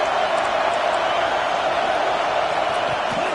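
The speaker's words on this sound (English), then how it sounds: "Decibels rising as the crowd gets behind this defense on third down" Stadium crowd roaring in a college football video game, a broad, steady wall of cheering on a defensive third down, continuous and even in loudness with no clear breaks.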